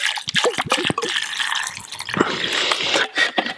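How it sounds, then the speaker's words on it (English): Foraged marsh samphire is rinsed in water, giving close, busy splashing and dripping with irregular sloshes and trickles, no talk. "So I'm just going to give them a good rinse now."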